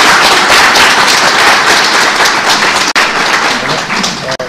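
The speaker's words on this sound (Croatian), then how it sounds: "Ja bih samo želeo jedan veliki aplauz," A hall audience applauding at an evening poetry and art event, loud dense clapping sustained for the whole stretch with a brief dip near the end.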